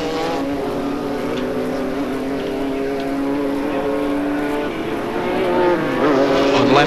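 Formula Holden open-wheel race cars run on track at Mallala in 1989, their engines droning steadily at middle distance with rising and falling pitch as they work down toward the back straight, under race commentary.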